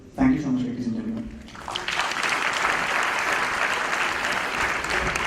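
Thunderous applause from a theatre audience after a stage play, starting with a brief voice then swelling into loud, dense, sustained clapping that fills the hall.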